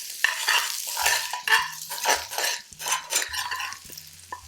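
Garlic sizzling in a hot pan for chicken 65, a fiery dish, with a spatula stirring and scraping the metal in several repeated strokes; the sizzle stays close and steady, with no talking.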